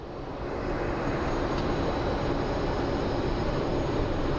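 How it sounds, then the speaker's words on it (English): Boeing 767 wide-body jet engines roaring on takeoff at Phoenix Sky Harbor airport: a broad, steady roar swells in over the first half second, then holds loud and constant throughout, with no voices. "So let's hear this mighty engines roar on the 767."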